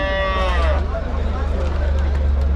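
Cattle moo nearby at a cow market, one long low call rising and falling, over a steady low engine-like hum and background chatter.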